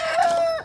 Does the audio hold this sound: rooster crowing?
yes